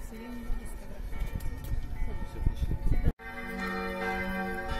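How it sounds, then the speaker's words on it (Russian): Church bells ring out from a monastery in Prague, seen from its lookout platform, their steady tolling mixed with voices and outdoor bustle; a short break interrupts the peal before it carries on. "Колокольный звон, если вам слышно."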